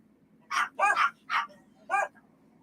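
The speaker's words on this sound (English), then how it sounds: "Excuse the dogs." Dogs barking indoors, four short sharp barks in quick succession over a quiet background, fairly close and loud, no talking.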